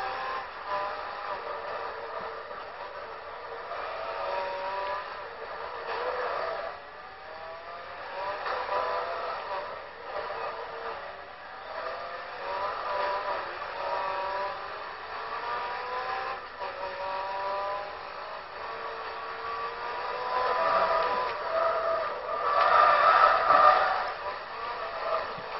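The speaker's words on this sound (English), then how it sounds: "my Honda just keeps chugging along" Honda race car in the Forza 2 racing game, its engine droning steadily with repeated rising rev sweeps as it accelerates through gears, a continuous mid-loud hum with no talk.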